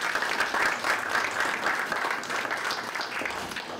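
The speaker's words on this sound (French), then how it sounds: "Bon, mais l'applaudissement encore une fois." An audience claps steadily at a fifth-anniversary show event, a dense moderate-level burst of applause lasting a few seconds without speech.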